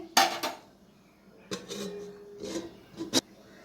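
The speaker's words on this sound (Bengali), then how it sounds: "এবারে আমি চচ্চড়িটা একটু নেড়ে আমি ঢেকে দিচ্ছি।" Raw fish chochchori curry in a pot gets a brief stir before the lid goes on, giving a few sharp metallic clinks and scrapes spaced across a few quiet seconds.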